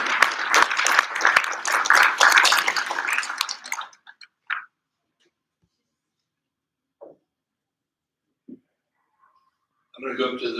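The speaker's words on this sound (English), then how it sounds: "Round of applause for this young man." Audience applause for a speaker at a Native American generational trauma workshop, a dense burst of clapping for about four seconds that stops, then a few isolated thumps and a short rise of noise near the end.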